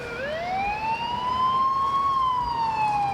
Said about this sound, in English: And once again, we hear sirens.